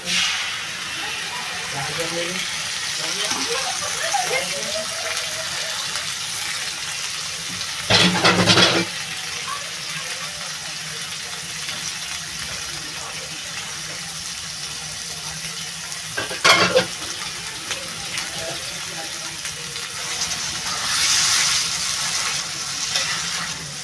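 Tomato and chili paste poured into a hot pan for a soya chaap malai curry sizzles and fries steadily, with louder bursts of clatter and stirring now and then.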